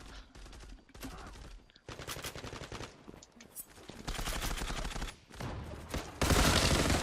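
Rapid automatic gunfire from the online shooter Zula, bursts of loud rattling shots broken by short pauses, growing heavier and more continuous toward the end.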